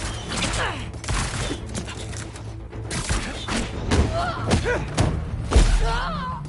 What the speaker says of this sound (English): Firing barrage! Don't get hit!